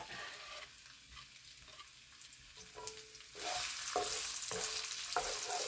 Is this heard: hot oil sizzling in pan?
yes